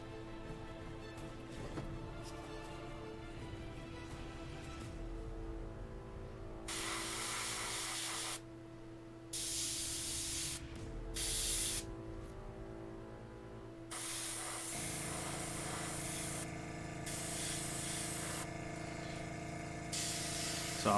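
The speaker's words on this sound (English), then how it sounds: "I'm spraying out that previous dark blue to get my gray." An airbrush flushes out dark blue paint while a miniature is being painted, producing close, steady hissing sprays broken into several bursts with short pauses between them.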